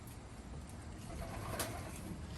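Pigeons in a loft holding mixed young and old birds, soft low cooing that blends into a steady hushed background, with a faint flutter partway through and no talking.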